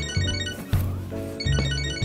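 A cell phone ringtone in the game Catherine: Full Body, a short, close, bright repeating electronic melody cycling about three times with no voices.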